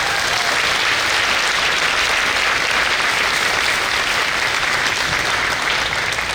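Steady, dense applause from a large audience at an evening celebration honoring a person, loud and continuous throughout with no break.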